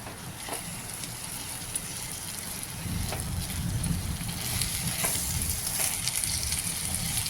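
Corn fried rice with chopped carrot sizzling and crackling in a frying pan as it is stirred, a continuous close hiss with scraping stir noises that grows busier and louder in the second half.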